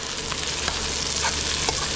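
Onions sautéing in a hot pan alongside mussels, with lemongrass and ginger nearby, a loud, continuous sizzle broken by a few scraping stirs of a spatula, close up and without voices.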